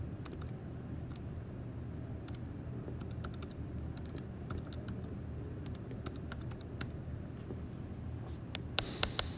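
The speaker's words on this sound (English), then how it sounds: "We type this into our calculator." Numbers are tapped into a calculator in light, irregular key clicks, faint over a steady low room hum, with a few sharper presses near the end.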